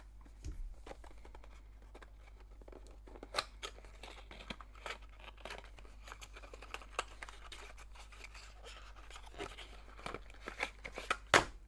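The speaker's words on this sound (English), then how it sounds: "let's remove the sticker and let's go inside." Small crackles, scrapes and light taps come from a sticker being peeled off and the box of Redmi Buds 6 Play earbuds being opened, quiet and close, with scattered sharper clicks.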